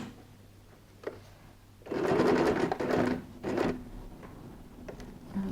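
A sewing machine stitching along velcro tape for a laptop case, one loud whirring burst of about two seconds, a short pause, then a briefer run, with faint clicks before and after.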